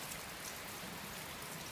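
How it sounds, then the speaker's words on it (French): Steady rain patters outside in a soft, even hiss, constant and fairly faint, with no voices. "Je sais pas si vous entendez la pluie dehors."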